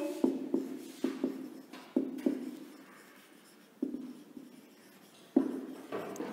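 Chalk or marker writes on a classroom board during a science lesson, giving a series of short taps and scratchy strokes in bursts with pauses between them, close and fairly quiet.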